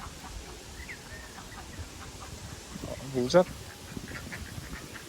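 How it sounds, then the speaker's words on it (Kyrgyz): Ducks at a farm pond give a brief burst of quacking partway through, over outdoor ambience, while a person talks nearby. "Мынакей өрдөк жүрөт үй ээсинин."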